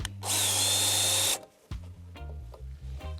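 A power drill drives a screw during a solar panel mounting job: one loud, steady whirring burst lasting about a second, then stopping abruptly.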